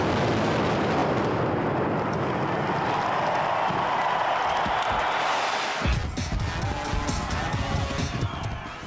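Disney fireworks display with continuous loud booming and crackling explosions, a dense rumbling barrage that gives way to sharper crackles and bangs, with voices mixed into the noise.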